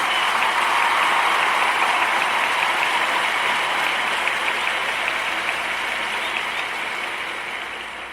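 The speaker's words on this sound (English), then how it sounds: "I want to give these young people a round of applause" An audience applauds young people in a sustained, dense wash of clapping that holds steady at close range, then slowly fades toward the end, with no voices over it.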